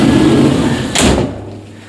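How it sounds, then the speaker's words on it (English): A window slides shut with a brief scraping rush ending in a soft thud, close by, after which the room noise drops to quiet. "I might just close the window."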